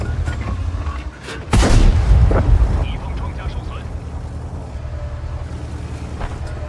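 A single loud, booming tank cannon shot in World of Tanks, fired during a battle at the Independence Palace, is followed by a fading rumble over steady engine and wind noise, with someone talking.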